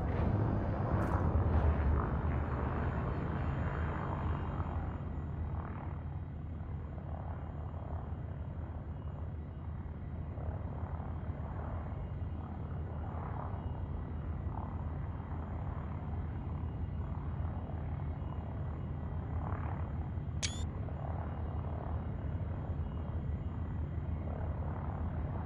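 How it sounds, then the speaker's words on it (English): A spaceship's frameshift drive charges in a video game, a steady low engine rumble and whooshing hum that holds evenly throughout, with a brief high chime near the end. "Frameshift drive charging."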